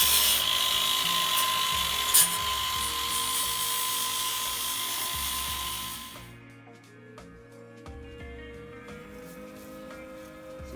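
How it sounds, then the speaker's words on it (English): Power tool cutting into a vehicle console to make room for a battery, a steady high-pitched whine for about six seconds that then stops, leaving quieter clatter and faint handling sounds. "We're just cutting a space for the battery there, and then attach it and fiberglass it."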